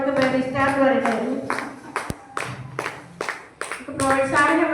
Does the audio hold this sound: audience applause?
yes